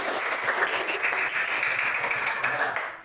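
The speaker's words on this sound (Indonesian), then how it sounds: "Coba berikan tepuk tangan untuk kelompok satu." Applause from a classroom audience for a student group, steady dense clapping filling the whole stretch at moderate loudness before fading at the very end.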